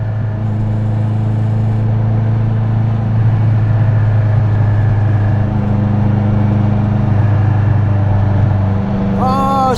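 A Ferrari 308 sports car engine drones steadily and close while driving slowly through a traffic jam in wet weather, holding an even, continuous tone for the whole stretch.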